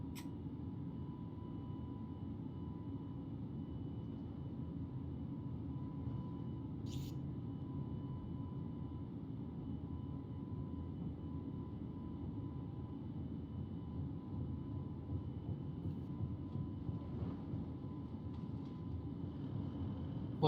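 An Airbus A320, the FlyByWire A32NX in Microsoft Flight Simulator, rolls down the runway at TOGA takeoff thrust, giving a steady, fairly quiet low engine drone and rumble that holds without change, with no talking.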